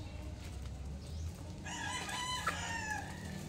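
A rooster crows once, loud and near, a long drawn-out call over low background rumble and faint ambient noise.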